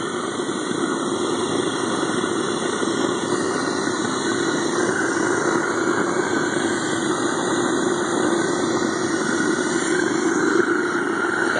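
A homemade Kwiky all-fuel foundry burner runs with its air choked, giving a loud, constant, close-up roar with a steady rumbling hiss that holds unchanged throughout.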